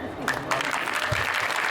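Audience applause at a devotional kirtan: a short, steady burst of dense clapping from a crowd, with a voice speaking alongside it.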